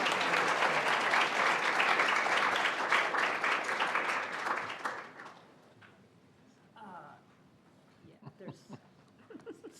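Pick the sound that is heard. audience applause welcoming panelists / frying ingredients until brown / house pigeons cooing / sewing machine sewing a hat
audience applause welcoming panelists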